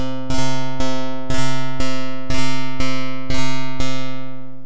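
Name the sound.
Drambo step sequencer synth note retriggering twice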